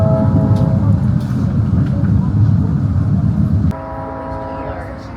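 Passenger train rolling through snowy small-town Indiana toward Chicago, a loud continuous rumble and rail roar with a steady horn-like tone, the noise dropping off abruptly near the end; no speech heard.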